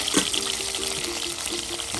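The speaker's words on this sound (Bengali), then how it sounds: "আপনার গরম তেলে চাপাগুলো ভেজে নেওয়া হচ্ছে।" Dried chapa shutki fish frying in hot oil, a steady close sizzle and crackle running the whole time with a faint tonal hum underneath.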